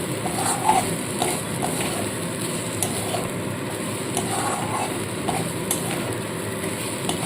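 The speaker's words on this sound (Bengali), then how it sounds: "সমানে আমি কিন্তু এইভাবে নাড়তে থাকছি" A bean mash being stirred in a pan over low sizzling, with a steady, continuous scraping and soft hiss that carries on throughout without a break.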